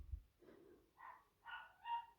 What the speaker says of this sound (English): if you can hear the dogs barking in the background